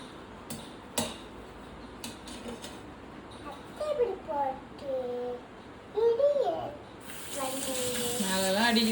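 Water runs from a tap into a sink and splashes while vessels are washed. A steady rush of water builds toward the end, with clinks of dishes and a voice chattering over it.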